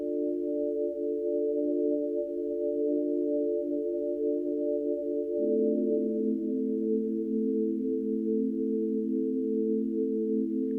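Sustained synth chords with a Past 12 bells keys tone ring steadily, shifting to a new chord midway, with no melody line on top.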